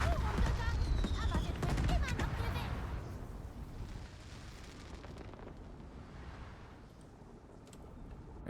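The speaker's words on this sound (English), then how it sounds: "Exploded in beautiful fireworks." A ship blows up in a naval battle video game, a loud rumbling blast with crackling bursts in the first three seconds that fades into a lingering low roar.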